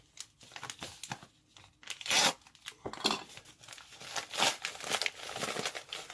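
Packaging from a Lee Load Master reloading press is torn open and crinkled: close, busy rustling and ripping of paper and plastic in irregular bursts, moderately quiet, with no talking.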